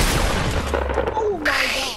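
A short gunfire burst in a first-person shooter, a sharp crack with a rumbling tail and a ringing shell-like tone fading out, loud and up close.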